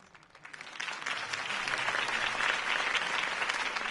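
A video game crowd applauds steadily at a Batman political campaign rally, the clapping swelling after the first second into a dense, sustained wash of hands that holds to the end.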